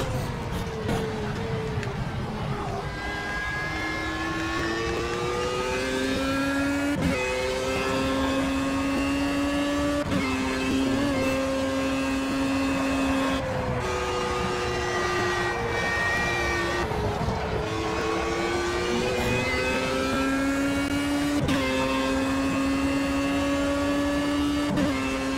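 Racing car engines in the Project CARS video game rev and shift through gears, rising and falling whines that stay loud and steady, with no speech over them.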